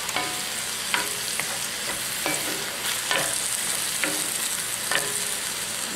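Two garlic cloves fry in a pan for chicken sage with mushroom, hissing steadily while a utensil scrapes and taps at irregular intervals, close and without speech.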